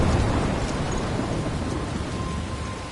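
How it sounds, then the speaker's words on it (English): A thunderstorm in the video game Life Is Strange: dense, steady rain noise with low rumbling filling the whole stretch, loud and continuous with no voices. "I'm trapped in a storm?"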